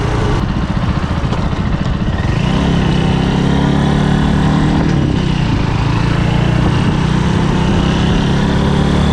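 A motorcycle leans low around a corner, its engine droning loud and continuous at close range with shifting pitch as it rides, alone with no voices.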